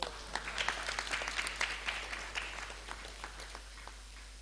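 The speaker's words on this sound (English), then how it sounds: "Give him a clap." A gathering of devotees at a spiritual talk claps, a light, fairly faint round of scattered hand claps that thins out and fades over a few seconds, with a low steady hum underneath.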